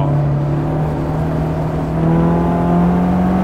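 A race car is driven around a circuit during driver training, its engine holding a steady, loud drone throughout with a slight rise in pitch toward the end. No one speaks.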